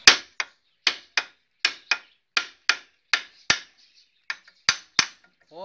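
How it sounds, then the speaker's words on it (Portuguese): Sharp metallic hammer blows strike a stuck brake part on a Mitsubishi L200, about a dozen close, ringing hits in an uneven rhythm with short pauses between them. "Pega um martelo. Dá uma pancada para ele descobrir quem é que manda."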